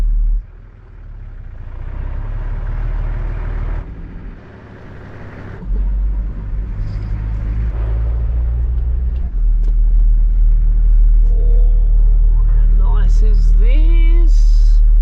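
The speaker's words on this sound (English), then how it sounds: "we're going to have just a little drive and see what we find" A 4x4 vehicle drives along a track in Limmen National Park, its engine a steady low rumble that swells and grows louder over the clip, with occasional knocks, faint voices and brief chirping near the end.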